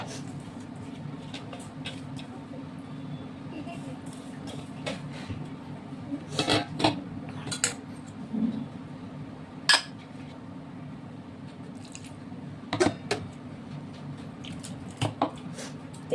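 A bowl gets washed, with scattered clinks and knocks of dishware over a low running background, the impacts sparse and fairly close, with no voices.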